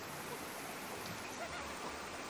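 A waterfall in the video game Ice Age: Scrat's Nutty Adventure gives a steady, faint broadband rush of falling water, unbroken and even throughout with no other sounds over it.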